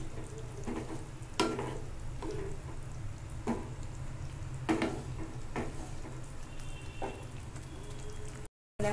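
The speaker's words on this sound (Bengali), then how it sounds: "এবার আমি একটুখানি ঝোল দিয়ে দেবো, মানে একটু জল দিয়ে দেবো" Masala sizzling and frying in a pan for paneer butter masala gravy as water is added, a steady hiss with several louder stirring clatters, no talking, ending in a brief cut to silence.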